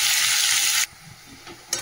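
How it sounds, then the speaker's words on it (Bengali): Onions frying in hot oil give off a loud, steady sizzle that cuts out abruptly, leaving a quiet background with a brief hiss at the very end. "পেঁয়াজটা ভালো করে ভেজে নিই"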